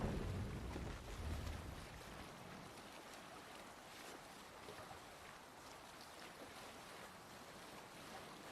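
A sailing ship surges over the water in Assassin's Creed Valhalla during a river raid, with a steady rush of waves and wind that is loudest in the first two seconds and then settles into an even wash.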